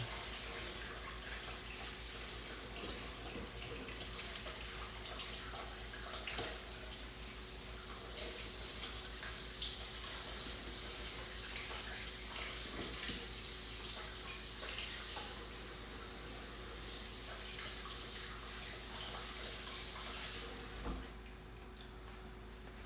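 A kitchen tap runs steadily while food is rinsed under it, a continuous close hiss of flowing water that lasts about twenty seconds and then cuts off, with no talking.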